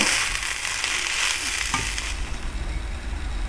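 Chicken fried rice with onions is stirred in a hot pan, giving a continuous crackling sizzle with a few scraping stirs, close and fairly loud, no voices.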